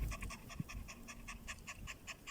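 A dog pants in quick, even breaths, about a dozen close, fairly soft huffs in a steady rhythm, with no talking.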